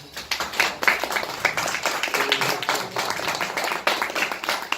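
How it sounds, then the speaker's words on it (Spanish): Audience clapping for an honoured woman at a workshop gathering, a fairly light, scattered patter of hands that holds steady for several seconds without any talk. "Así que démosle un aplauso a doña Hilda."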